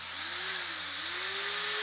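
A cordless electric screwdriver spins clockwise after a button repair, a steady high-pitched motor whine running loud and continuous, alone with no voices.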